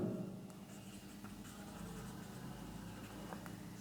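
Pen writing out a calculation on paper, soft scratchy strokes in short bursts, faint and close, over a low steady background hum.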